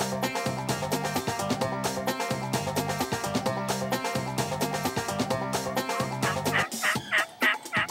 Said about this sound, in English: we saw the unknowing turkeys who were on their way in